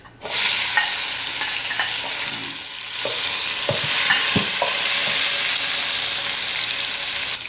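Ginger and tomato sizzle loudly in a hot pan for chicken mechado, a steady close frying hiss with a few soft clicks of stirring, no voices.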